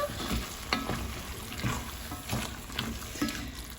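Black beans being stirred together in a pan, with a steady low sizzle and scraping spoon strokes at an uneven rhythm, close and moderately loud, without any talking.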